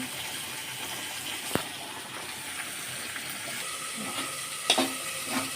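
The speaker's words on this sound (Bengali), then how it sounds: "দেখছো এই যে ফুটছে।" Potol korma simmers in a pan, producing a steady bubbling, hissing sizzle with a few soft knocks and utensil clicks.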